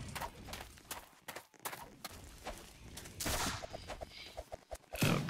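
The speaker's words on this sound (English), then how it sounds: "And they're still firing the cannon." Cannon fire in the video game Empire Clash, with scattered booms and sharp reports amid clattering game noise and hoofbeat-like thuds.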